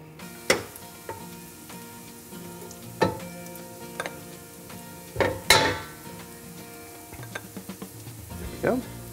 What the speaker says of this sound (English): we'll cook the shallots first until they're about done